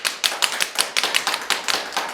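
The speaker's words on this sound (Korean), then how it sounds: "오늘도 박수로 문을 열어보겠습니다" Elderly people in a seniors' exercise class clap their hands in a quick, even rhythm, about eight claps per second, loud and close with no talking.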